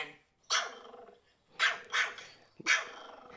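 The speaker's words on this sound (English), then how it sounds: "Here's a Pomeranian." Pomeranian dog barking, played back by Siri on an iPhone: four sharp, high yappy barks in quick succession, close and clear with brief silences between.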